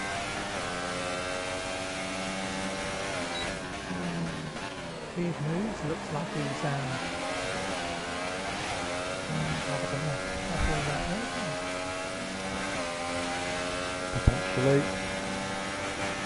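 Mercedes-powered Formula 1 car in the F1 2018 racing game, heard on board at Germany: a steady high engine whine with rising and falling gear sweeps across the whole stretch, running under a commentator's voice.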